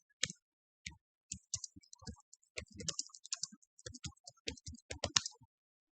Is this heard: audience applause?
no